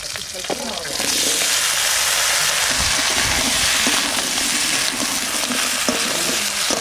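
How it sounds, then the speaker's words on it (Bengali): Pumpkin frying in a pan for a Bengali rohu fish head dish with poppy seed paste, producing a loud, continuous hiss of hot oil that swells after a quieter start and carries on steadily, with light stirring underneath. "এবার কুমড়োটা ভেজে দেবো"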